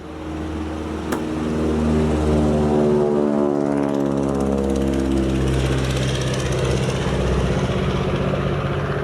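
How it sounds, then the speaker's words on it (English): A low-flying crop-dusting propeller airplane spraying pesticide over a field drones loudly and close, its engine tone sliding in pitch as it passes low overhead and continues steadily. "Dude is flying this damn plane, hitting pesticides on his field."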